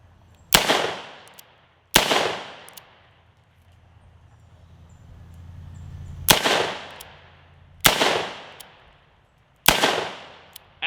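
Five loud, sharp Colt Python revolver shots, spaced a second or more apart with ringing decay after each blast, fired close by in the open.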